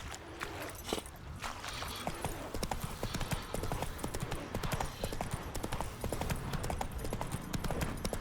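A horse gallops in the video game The Witcher 3, with quick, steady clip-clop hoofbeats that run continuously, near and fairly loud over faint game ambience.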